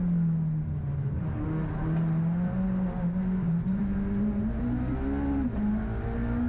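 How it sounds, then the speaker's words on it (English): Peugeot 306 rally car driven flat out around Snetterton circuit, its engine holding a loud sustained high-revving drone with slight pitch rises and dips as it pulls through the lap. "Chris absolutely flat to the boards in that 306, giving it the beans around Snetterton."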